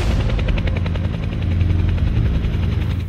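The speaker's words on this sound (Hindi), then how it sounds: "ये बेहद ही फेमस टेंडेम रोटर हेलीकॉप्टर है" Boeing CH-47F Chinook tandem-rotor military helicopter, a loud steady rotor roar with rapid rhythmic blade chop throughout, close and continuous with no talking.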